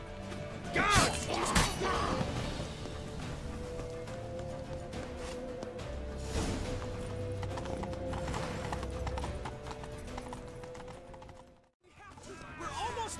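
A horse gallops in The Witcher 3 fantasy game, with loud, fast, steady clip-clop hoofbeats over a rumbling mix, a whinny near the start, and a brief drop in sound near the end.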